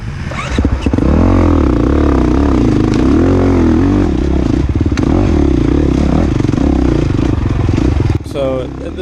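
A dirt bike with a burnt-out clutch runs loud and close during an Intermediate race at Stroud Lake, its engine droning and wavering in pitch with clattering and scraping, while a voice talks over it.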